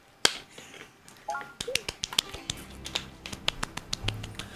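Scattered close claps and slapping high fives between two people, irregular and quick, with a few faint vocal sounds in between.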